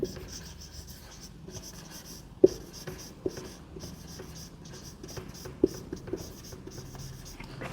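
Marker or chalk scratches across a board while momentum equations are written for a physics lesson, a close, continuous scribbling broken by a few sharp taps and short pauses.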